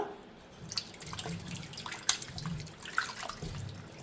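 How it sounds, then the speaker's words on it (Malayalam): Tap water running and splashing as raw chicken is rinsed for a Kerala-style chicken curry, a steady wash with scattered drips and small splashes close by, no voices. "ആദ്യം തന്നെ നമുക്ക് ചിക്കൻ കഴുകി വയ്ക്കാം"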